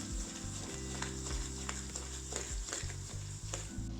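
Semolina roasting in ghee in a pan is stirred hard and steadily, a continuous close sizzle broken by repeated scraping strokes of the spoon, with no voices.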